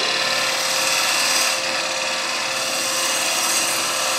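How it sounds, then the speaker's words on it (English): A chisel pushes across the surface of a wooden bowl spinning on a lathe, producing a steady, loud, hissing shear of blade on wood that continues unbroken, with no talk. "push the chisel across the surface"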